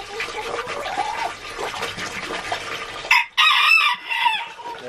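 A rooster crows nearby over a background of clucking and farmyard noise, with a sharp, loud call bursting out in the last seconds.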